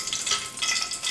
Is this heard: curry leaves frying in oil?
yes